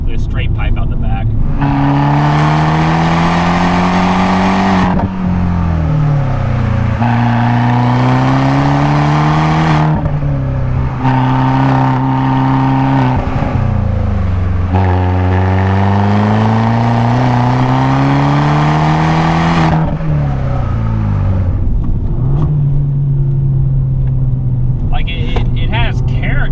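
Fiat 500 Abarth with a manual gearbox and an essentially straight-pipe exhaust, revving loudly and repeatedly in rising and falling sweeps across the whole stretch, with brief dips between pulls.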